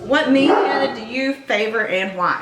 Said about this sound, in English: So sorry, that's my dog.